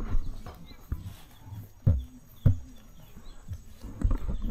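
Horses at a nature conservancy in Kitale, heard as scattered hoof thuds and shuffling movements with a snort or two at moderate distance, over outdoor background noise.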